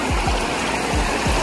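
Drain water streams steadily outdoors at an adventure spot in Garhwal, a continuous close rushing flow with a few low thumping bursts and no voices.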